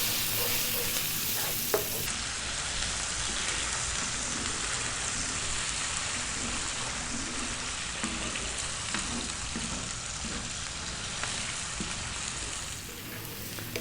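Green vegetable rice stir-fried over high heat, a steady close sizzle and frying hiss with light scraping of the spatula as it is kept moving, continuous with no talk.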